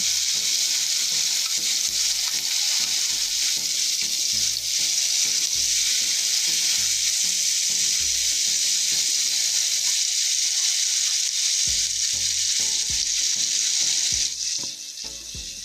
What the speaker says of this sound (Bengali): এবার কড়াইতে তেল দিয়ে দিয়েছি, তেল গরম হয়ে গেছে। একে একে করে চিংড়ি মাছগুলো দিয়ে দিচ্ছি।